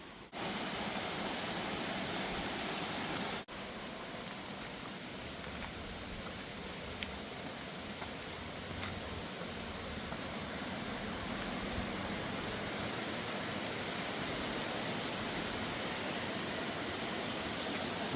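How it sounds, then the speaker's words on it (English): A waterfall in the Great Smoky Mountains roars steadily and evenly, a dense broadband rush that stays constant and close throughout, with no voices. "Beautiful waterfall over here."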